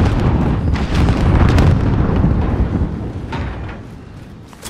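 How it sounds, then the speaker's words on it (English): A grenade blows up in a Call of Duty: Modern Warfare multiplayer Domination match, giving a heavy, booming blast with a rumbling low-end tail that slowly fades over several seconds. "Grenade out!"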